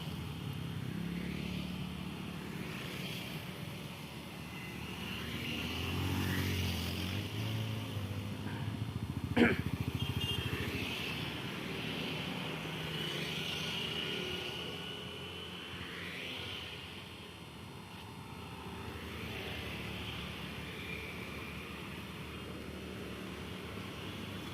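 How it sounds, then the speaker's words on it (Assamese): Motorcycles in a BJP bike rally pass by one after another, engine drones rising and falling at moderate distance, with a voice talking over them. "তো এয়া চাব পাৰে কি ধুনীয়াকৈ বাইক ৰেলি আহি আছে নিজৰ লাইনত"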